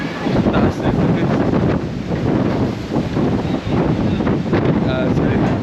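Strong gusting wind buffets the microphone at a hilltop park in Tagaytay City, a loud continuous roar with rumbling gusts throughout, cold and blustery.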